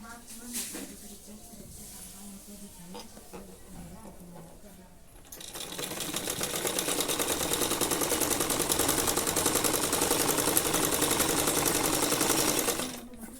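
Sewing machine running a line of stitching around the waistband of a Patiyala salwar, starting after a few seconds of quieter handling and then whirring steadily and loudly for about seven seconds before stopping abruptly, with speech present.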